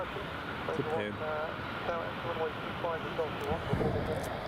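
An Embraer 170 jet climbing after takeoff from Newcastle Airport, a broad steady engine roar filling the background while people talk close by over it.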